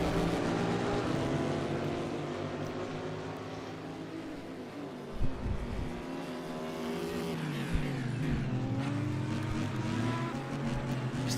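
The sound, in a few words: Meyershank Racing Acura race car at the Rolex 24 at Daytona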